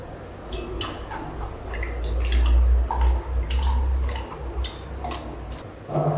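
Blended carrot and coconut juice strained through a filter, a close, steady trickle and patter of liquid with scattered drips running throughout.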